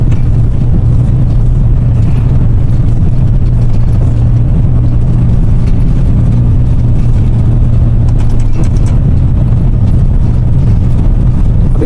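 A loaded trailer truck on the Buraidah to Al Majma'ah road descends in manual seventh gear with its three-step retarder engaged, producing a loud, steady low engine drone that holds unchanged throughout.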